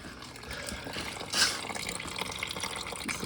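Liquid trickles and splashes steadily as watery, rusty coolant drains from a car's cooling system, a continuous close pour with one brief louder splash midway.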